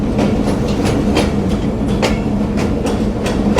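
A train rolls through Jessore railway junction at night, steady loud rumble with rhythmic clickety-clack of wheels over rail joints, close by.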